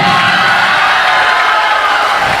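A live audience at a stage performance claps and cheers loudly, a dense continuous roar of applause and shouts filling the whole stretch.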